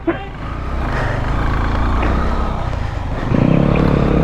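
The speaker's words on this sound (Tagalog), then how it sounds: "Lakas ng motor niya eh." An enduro trail motorcycle engine revs steadily at Blue Lagoon, a loud continuous drone that swells toward the end with a harder, higher rev, with faint voices in the background.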